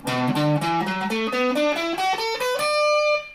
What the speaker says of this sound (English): Every guitar player knows how to play this scale